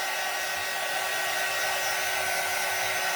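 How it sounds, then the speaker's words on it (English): A hair dryer running indoors, a loud, steady whirring hiss with a faint fixed whine, unchanging from start to finish and not covered by any talking. "Probably because I turned on the dryer."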